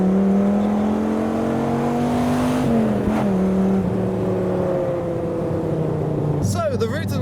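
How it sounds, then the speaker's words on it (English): A Lamborghini Diablo, a 1990s V12 supercar, drives past near Goodwood with a steady engine drone that shifts pitch as it goes by, mixed with other passing traffic. "So we've got the Diablo passing through."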